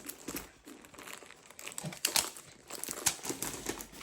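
Plastic wrapping crinkles and rustles as it is pulled off a diamond painting kit, a continuous close, busy crackle with sharper crackling peaks throughout.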